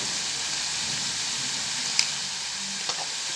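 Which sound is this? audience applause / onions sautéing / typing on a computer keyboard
onions sautéing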